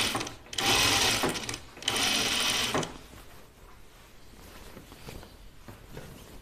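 Sewing machine stitching the binding seam of a Kalle shirtdress, two loud close bursts of whirring needle action in the first three seconds, then a quieter low mechanical hum with faint handling sounds.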